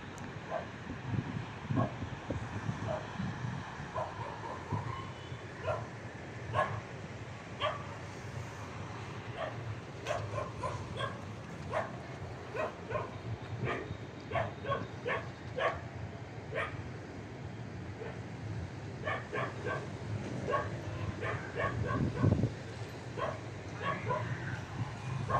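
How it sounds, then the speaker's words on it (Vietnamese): A dog barks repeatedly at night in Bình Hưng Hòa cemetery, a long run of sharp, fairly close yips and bow-wows over steady low outdoor rumble, with scattered voices now and then. "có con chó nó sủa quá trời luôn nè"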